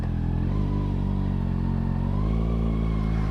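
A 2022 Kawasaki Ninja ZX6R on a commuting ride, its engine a steady, loud, close drone with strong low harmonics and a slight rev lift partway through, no talking.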